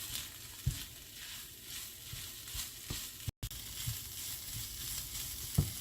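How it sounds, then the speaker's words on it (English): Chicken sizzles and fries steadily in a pan over a high flame, with a continuous bright hiss broken by occasional soft stirring knocks; no voices. "Add all the chicken to the mixture. Now cook it for next couple of minutes on high flame."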